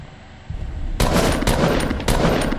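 Rapid automatic gunfire from a shooter video game, loud bursts of fire arriving in three or four clusters after a quiet start, close and harsh with no voices over it.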